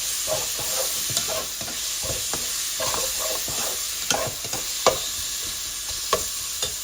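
Roughly cut tomatoes cook in a pan for a Kerala-style lamb curry, with a constant close sizzle broken by frequent spoon scrapes and a few sharper knocks against the pan.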